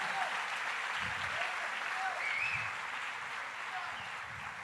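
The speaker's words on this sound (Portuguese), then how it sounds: "Então aplaude para valer." A church congregation claps along during a sermon, an even roomful of applause that holds steady and fades slightly toward the end, with a faint voice underneath.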